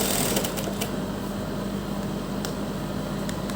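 A sewing machine stitches a neck seam on a garment, a steady close mechanical whir with faint rhythmic clatter running throughout, no voices.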